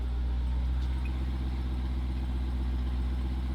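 The engine of a totaled Jeep Grand Cherokee Trackhawk, bought at auction, idles nearby with a steady, deep rumble and faint mechanical clatter, unbroken throughout.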